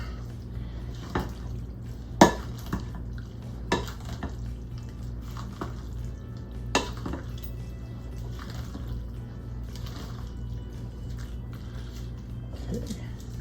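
Casserole ingredients and pasta are stirred in a bowl that is too small, with scattered clinks and scrapes of a utensil against the bowl and a few sharper knocks over a low background hum.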